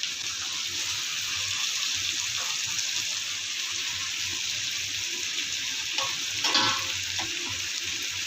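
Chicken cooking in masala for mandi biryani sizzles steadily in the pan, a continuous close frying hiss with a few louder stirring scrapes near the end.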